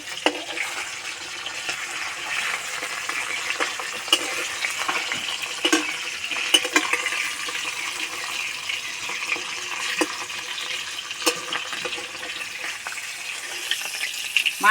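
Steady crackling sizzle of fish frying in hot oil, continuous throughout with occasional sharper pops and spits, close by and without talk.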